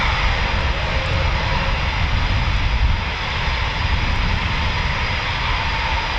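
A Eurofighter Typhoon FGR4 fighter jet takes off at RAF Coningsby, its engines giving a loud, close, continuous roar that holds steady for the whole stretch, with no voices over it.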